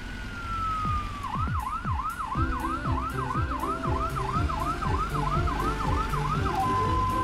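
Cartoon ambulance siren wailing in a steady, rapid rising-and-falling pattern, loud and close, repeating continuously over a low engine rumble.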